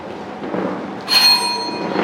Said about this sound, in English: Warning bell will be given at the end of 3 minutes like this.